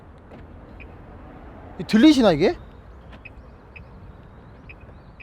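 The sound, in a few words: Audi A7 key fob door lock beeping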